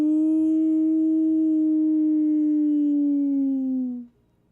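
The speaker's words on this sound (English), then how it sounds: "It's that same howl that you ran from." A creature's long, sustained howl rings out loud and clear for about four seconds, sliding slightly downward before cutting off abruptly, used as a sound effect in a dark-fantasy tabletop roleplaying game.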